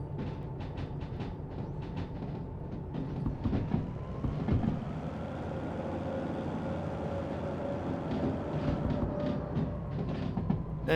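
A train in the video game Derail Valley rumbles steadily along the rails, with a continuous low mechanical drone and rhythmic clacking, a tone that shifts gradually and no talking.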